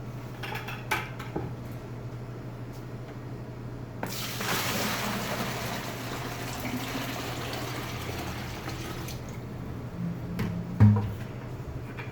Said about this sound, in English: So we'll fill this with water.